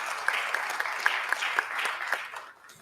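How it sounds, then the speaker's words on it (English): Round of applause from the audience at a defence and security conference panel, a steady wash of clapping with a few sharper claps, fading toward the end. "I think our subordinates and our colleagues probably deserve a round of applause."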